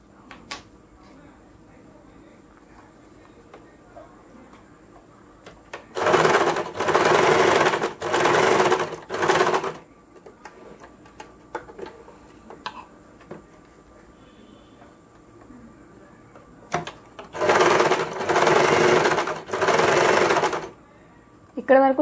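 A sewing machine stitches a blouse pocket in two bursts of rapid, even mechanical whirring, each lasting a few seconds, separated by quieter handling sounds and someone talking.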